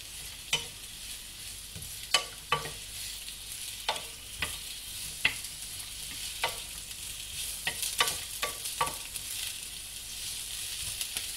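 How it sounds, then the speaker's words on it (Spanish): Mushrooms sautéing in hot olive oil in a frying pan: a soft, continuous sizzle broken by a dozen sharp utensil taps and scrapes as they are stirred. "en una sartén con el aceite caliente y un chorrito de aceite de oliva, añadiremos primero los champiñones"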